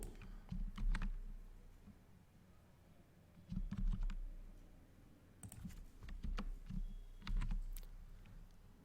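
Keys on a computer keyboard are tapped in short bursts of quick clicks separated by pauses, faint and close, during work on a C program.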